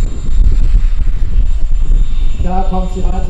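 Loud low rotor and engine roar from a large 1:3 scale Bell 47G model helicopter with a 3.8-metre rotor close by, with a whining turbine tone rising near the end.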